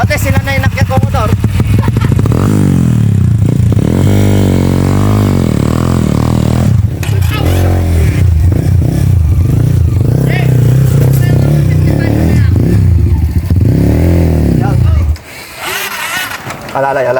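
A trail motorcycle revs hard and labors up a climb, its engine loud and close, rising and falling in pitch before cutting off near the end, with voices talking over it.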